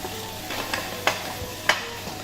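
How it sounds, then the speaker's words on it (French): Chopped shallots sweat in a hot pan with a steady, soft sizzle, broken by a few sharp clicks of a spoon or spatula against the pan. No one speaks. "on va incorporer nos échalotes pour les faire suer"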